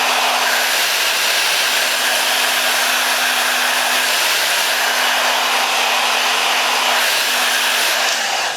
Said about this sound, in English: I'm going to go ahead and blow it dry on the cool setting.